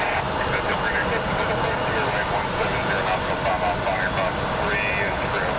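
An all-yellow Spirit airliner's jet engines roar steadily at Columbus John Glenn International Airport, a loud, unbroken broadband rumble close by, with a voice talking over it.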